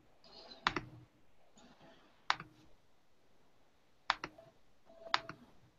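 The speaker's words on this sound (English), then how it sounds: "I think I can hear you typing" Computer keyboard typing heard faintly over a call, with four short bursts of clicking keystrokes separated by quiet gaps, each burst led by a sharper tap.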